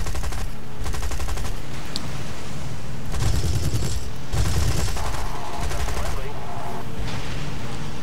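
Aircraft guns in the video game War Thunder fire in dense rattling bursts over steady engine drone, loud and sustained, with a voice talking partway through.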